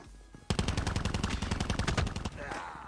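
Rapid automatic fire from the GKS submachine gun in the mobile shooter game Call of Duty Mobile: a close, loud burst of evenly spaced shots lasting about two seconds, then a fading tail with faint game ambience.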